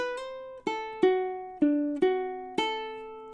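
Plucked ukulele notes in a bluesy lick with a swung, uneven rhythm, each note ringing out and decaying before the next; clear and close, no voices.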